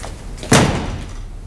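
An indoor door shuts firmly with one solid thud, followed by a short, dull ring of the room before it goes quiet.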